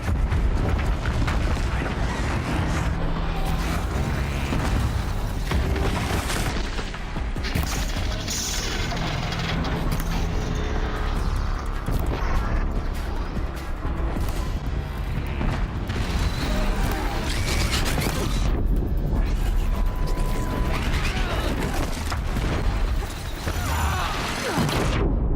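Machines attack the settlement of Sunstone Rock in Horizon Zero Dawn: a loud, dense, continuous battle din of mechanical clanking, booms and crashes that runs for the whole stretch, with no break in the noise.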